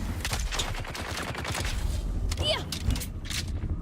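Rapid shotgun blasts in a sci-fi video game, loud close shots in quick succession among clattering in-game effects.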